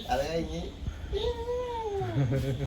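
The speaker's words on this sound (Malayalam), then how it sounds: "ഇതാണ് ഞങ്ങളുടെ വീട്ടിൽ ആകെ ഉള്ള ഒരു പൂച്ച" A house cat meows clearly and close by, giving a long drawn-out rising and falling cry, with shorter vocal sounds around it.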